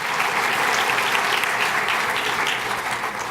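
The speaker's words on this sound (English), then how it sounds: "A round of applause for Samir Gulati and his marketing team." A conference crowd at Appian World 2015 applauds a marketing team with loud, dense, continuous clapping that holds steady throughout.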